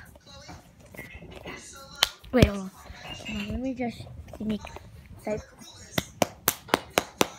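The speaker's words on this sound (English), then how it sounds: "I'm gonna clap." A single person claps hands six times in an even rhythm, sharp and close, after someone talks briefly.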